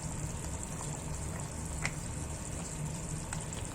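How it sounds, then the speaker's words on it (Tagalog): A pot of Filipino pork sinigang with tamarind simmers at a steady low bubbling, with a few faint clicks over the even hiss of the boil. "Ayan na kumukulo na yung ating pork sinigang."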